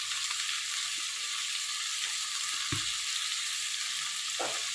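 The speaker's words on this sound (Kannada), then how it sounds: "ಈಗ ಇದನ್ನು ನಾವು ಚೆನ್ನಾಗಿ ಫ್ರೈ ಮಾಡ್ಕೊಳ್ಳೋಣ." Tomato and turmeric fry in a pan with a steady, even sizzle that runs throughout, broken by a couple of brief low thumps from stirring.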